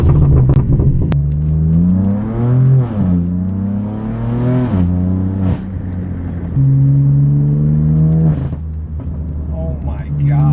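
A BMW M4 F82 on a spirited canyon drive pulls hard through the gears, the engine note climbing, dropping at each shift and climbing again, loud and close throughout over about ten seconds.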